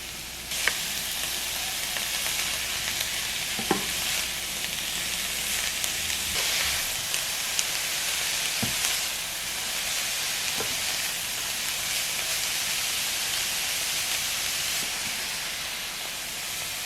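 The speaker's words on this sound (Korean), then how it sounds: "오일 1큰술 두른 팬에 양배추를 넣어줄게요" Shredded cabbage frying in a pan with a tablespoon of oil: a steady, loud sizzle and hiss running throughout, with a few sharp clicks from stirring.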